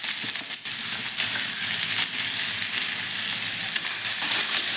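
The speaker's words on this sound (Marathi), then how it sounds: "थोडे जिरे आपले छान फुलले की आपण त्यामध्ये कांदा घालून घेऊया या पद्धतीने" Onion fries in hot oil with cumin for a boiled-egg curry, giving a loud, continuous crackling sizzle with slight stirring shifts throughout.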